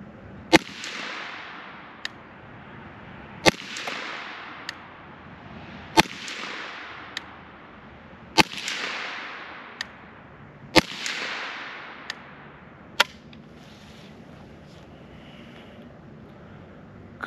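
A custom Ruger 10/22 rifle fires while its scope is zeroed, with five or six sharp cracks a few seconds apart, each trailing a brief fading echo, plus fainter ticks in between.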